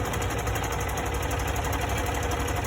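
A sewing machine runs continuously while stitching a fabric face mask, a loud close motor drone with fast, even mechanical rattling and no pauses.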